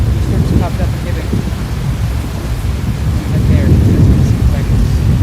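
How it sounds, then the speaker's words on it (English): Storm over Hibbing with low thunder rumbling beneath a constant hiss of rain, a loud, heavy wash that swells slightly toward the end. "Storms popped up in Hibbing."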